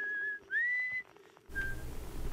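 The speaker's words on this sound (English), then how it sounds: "Who's whistling? Is that me?" Clear, high whistling in short melodic phrases, with a brief pause and a gentle background hiss joining toward the end.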